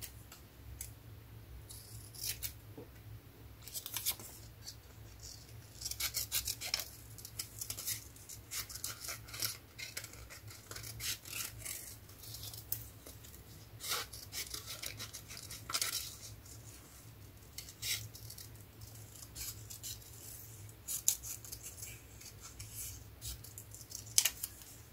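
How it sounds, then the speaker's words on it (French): Small scissors snip a Halloween ATC paper card in a quiet room, giving a series of short, crisp cutting clicks at irregular intervals, close and fairly faint. "On va couper là."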